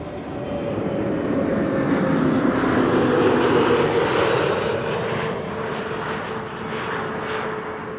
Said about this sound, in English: EasyJet A320neo arriving from Valencia in Spain.